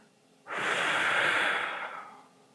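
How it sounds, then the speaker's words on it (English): One long, audible breath blown out through pursed lips, a close breathy whoosh lasting about a second and a half that fades at the end, no talking. "you're going to purse your lips as if you're blowing a kiss. And you're going to audibly blow that breath out."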